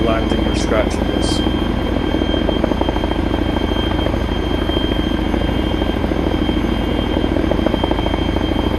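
A Chinook helicopter flying over a location in ARMA 3, its steady, loud rotor thump and engine drone continuous throughout, with faint radio-style voices partly underneath.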